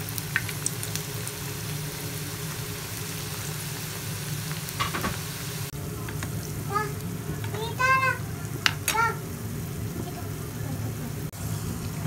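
Small vadas made from bun pieces crackle and sizzle in hot oil, a continuous bubbling hiss with occasional sharper pops and a few faint clinks.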